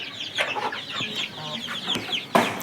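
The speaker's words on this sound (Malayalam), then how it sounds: "ഇതൊരു ക്രോസിൽ അനുഭവപ്പെട്ടിട്ടുള്ള പൂവനാണ്. ഇതൊരു നാടൻ ക്രോസാണ്." A native cross-breed rooster on a poultry farm clucks in short, soft bursts, fairly close, with a few sharper calls and a brief louder squawk near the end, with no talking.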